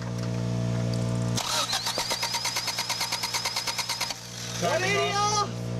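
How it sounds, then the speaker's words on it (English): A Subaru EA82 engine cranked over by the starter after a distributor swap, giving a rapid, even chugging that runs for about three seconds and stops, followed by a brief whine, with no talk over it. "Cranking her over, Miles."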